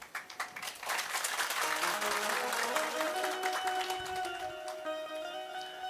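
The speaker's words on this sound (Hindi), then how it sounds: "अरे आप तो ताली भी बड़ी सुंदर बजा लेते हैं" An audience at a religious discourse claps, starting with scattered hand claps that swell into dense, sustained applause, with a faint tonal background beneath it.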